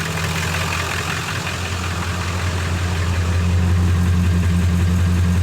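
A steady, low straight-six engine idle with a deep, even exhaust rumble, running continuously and fairly loud throughout with no talking.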